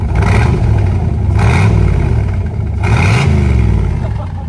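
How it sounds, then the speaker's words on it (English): A 1965 Corvette with a 327 V8 and side-pipe exhaust revs hard three times in close succession, each throttle blip swelling into a loud, rumbling roar before dropping back toward idle. "And you hear that exhaust idle right here. I got the side pipe. Let's hear it go rev up."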